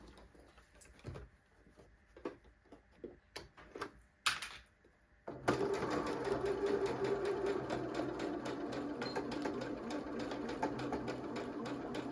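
Sewing machine stitching across the corner of a zippy pouch: scattered clicks and handling taps first, then a sustained, even run of stitching close up.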